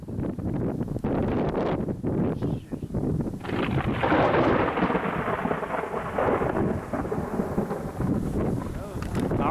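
Heavy thunder rolls and crackles from a supercell storm over central Kansas, loud and close, with rain and gusting wind buffeting the microphone throughout.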